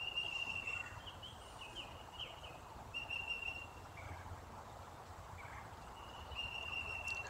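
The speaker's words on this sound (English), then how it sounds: "There are birds and all kinds of stuff that are around me." Clear bird whistles ring out in short repeated bursts over a steady outdoor background hiss, with no one talking.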